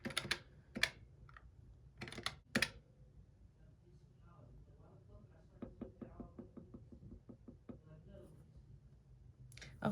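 Calculator buttons pressed in a quick series of light clicks, with a few louder taps earlier, close and quiet, while someone talks softly alongside.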